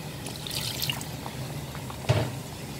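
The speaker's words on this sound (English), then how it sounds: "I'll just add a little quantity of water" A little water trickles and splashes softly into a cooking pot for nsala soup, a faint, brief pour with one small louder splash near the end.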